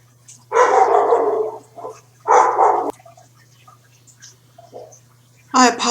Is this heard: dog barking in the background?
yes